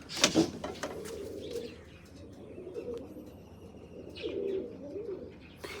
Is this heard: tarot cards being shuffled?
no